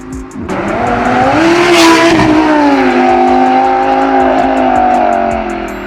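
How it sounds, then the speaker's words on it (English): Lamborghini Huracan fitted with a titanium catback exhaust, no headers, lets out a loud, sustained high-pitched engine scream that climbs and holds through a rev, heard up close with no talking. "We've now got that super high pitched scream that the Huracan deserves."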